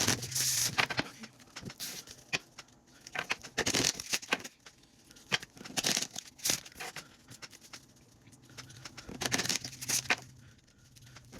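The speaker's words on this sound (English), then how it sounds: "Let me go ahead and prepare to shuffle." Soft papery patter and riffling of oracle cards being shuffled in irregular bursts, close and fairly quiet, with no one talking.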